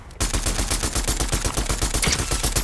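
Steady rapid gunshots in the video game Fortnite, a continuous burst of evenly spaced automatic fire at close range, loud and uninterrupted throughout.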